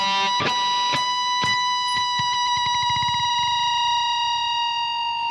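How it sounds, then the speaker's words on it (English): Heavily distorted electric guitar plays a triple dive bomb: several sharp picked attacks, then layered notes sliding down and spreading apart into a wavering, slightly detuned drone that rings on loudly throughout. "you get this slightly detuning effect as the notes separate and get further and further apart."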